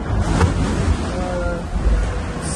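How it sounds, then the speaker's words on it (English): Sea spray and waves wash over the deck of a racing sailboat fast reaching in the open Southern Ocean, a steady rushing, hissing roar with bursts of splashing and wind noise throughout, no voices. "Some splashes coming over deck"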